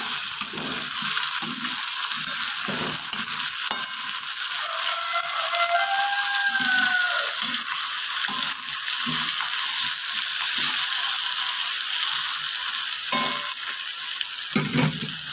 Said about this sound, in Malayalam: ഒന്ന് ചെറുതായിട്ട് ഇളക്കി തിരിച്ചിട്ട് കൊടുക്കാം ചെറുതീയിൽ വേവിച്ചാൽ മതി